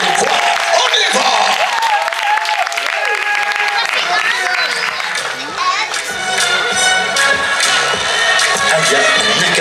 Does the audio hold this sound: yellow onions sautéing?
no